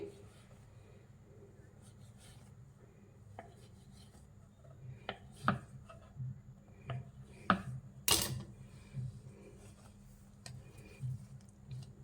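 A knife cuts through soft bun dough on a counter in a home kitchen, making sparse light taps and clicks that get busier partway through, with one sharp click near the end over a quiet background hum.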